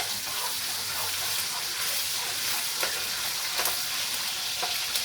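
Ginger garlic paste sizzles in a hot pan for chicken biryani while being stirred, a steady close frying hiss with occasional scraping strokes and no voices.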